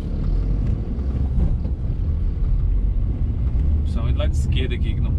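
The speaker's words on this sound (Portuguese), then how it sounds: "Cheio de moto aqui, tem que ficar ligado." City street traffic in Assis, São Paulo, with motorcycles passing on both sides, heard as a steady, loud low rumble of engines and wind buffeting, with a brief higher whine near the end.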